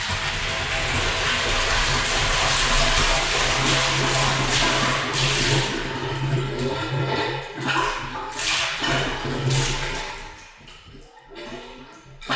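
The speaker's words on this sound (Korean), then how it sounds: "모터에 전원을 연결시키고 물이 나오기를 기다려봅니다" A submersible water pump motor switched on to draw stream water, running as a continuous loud rushing, churning drone with steady low hum, water gushing throughout before easing slightly near the end.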